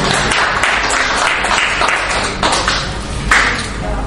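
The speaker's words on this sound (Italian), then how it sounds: "professore Luca, forse un applauso in più." Audience applause at an Italian poetry reading, a dense, steady wash of clapping close by that fills the whole stretch with a brief louder swell near the end.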